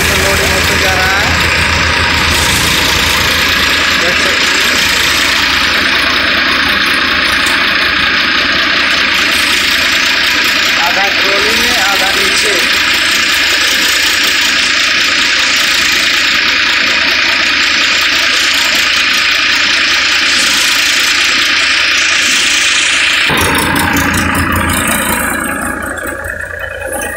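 A paddy thresher engine runs steadily throughout, a loud continuous mechanical drone with grinding and rattling, under intermittent voices, easing off near the end.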